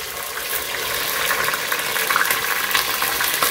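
Cold water pours in a steady hissing stream, like running from a tap or filling a container, fairly close and continuous with no voices over it.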